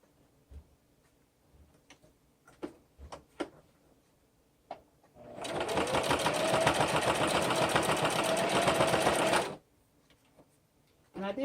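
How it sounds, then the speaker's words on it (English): A sewing machine stitches the raw edges of a fabric pouch in one steady, loud whirring run of about four seconds, preceded by a few soft clicks and fabric handling sounds. "And then I'm just going to sew this raw edge here,"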